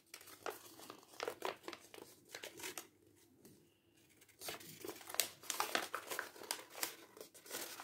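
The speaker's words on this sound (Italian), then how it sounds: "Apriamo e chiudiamo sulle pieghe fatte." Origami paper for a modular star crinkles and rustles close by as it is opened and folded shut along pre-made creases, in irregular bursts of crisp crackling with a quieter pause midway.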